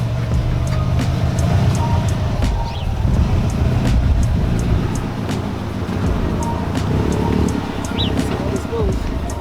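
A 2015-or-later Subaru WRX STI on a road test drive after a Fortune Auto 510 coilover install, with a steady, fairly loud cabin rumble of engine and road noise running throughout.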